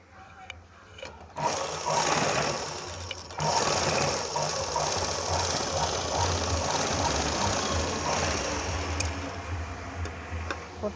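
A sewing machine stitches the seams of a lined blouse in steady continuous runs. The motor whirs close and loud after a brief pause near the start, with faint ticking mechanics underneath and no talk over the stitching.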